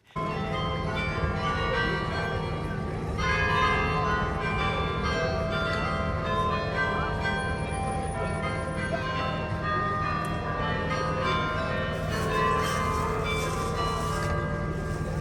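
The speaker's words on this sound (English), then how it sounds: "No shade to the carillonneur in the Belfry Tower, but it sounded like a child's recital" Carillon bells ring from the Belfry Tower in Bruges, a continuous run of melodic chimes with overlapping ringing tones, moderately distant and steady, set against faint town ambience with no voices.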